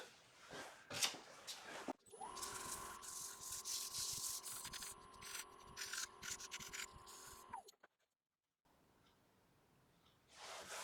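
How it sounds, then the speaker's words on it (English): A wood-turned art piece is quickly sanded on a lathe: a soft, steady rasp of abrasive against spinning wood over a faint motor hum lasts about five seconds, then cuts to near silence. "I'll just give it a quick sand."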